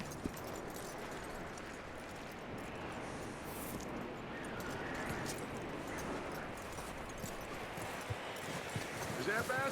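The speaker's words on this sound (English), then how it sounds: "That looks like a decent horse." Horse hooves clip-clop steadily in Red Dead Redemption 2, a continuous rhythmic patter beneath a dense bed of in-game ambience, with voices talking over it.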